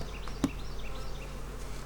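Honeybee guard bees buzz steadily around a beekeeper's head near a hive, a thin continuous hum with wavering drone passes and one sharp tap partway through.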